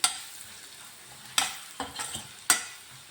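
Chili powder is sautéed in a pan, heard as a few sharp spatula scrapes and clacks separated by quiet gaps, with a faint sizzle trailing after each stroke.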